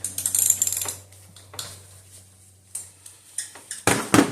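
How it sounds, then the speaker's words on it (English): Ratcheting with a number 45 Torx bit to remove the vacuum pump from a Dodge Dart 1.4L engine, heard as short bursts of clicking near the tool, separated by quiet pauses. "we've got our number 45 Torx tip to get this vacuum pump off with"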